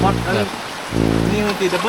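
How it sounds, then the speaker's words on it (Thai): Heavy rain pours steadily in an outdoor riverside setting in Thailand, a dense hiss of water while someone talks over it. "ตอนนี้ฝนตกแรงมากเลยครับ"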